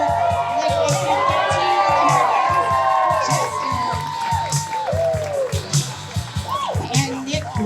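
A crowd cheers and children shout excitedly during a speed climb at a lumberjack show, with loud sustained whoops and screams that swell, then fade in bursts, over a steady rhythmic thumping and an announcer talking.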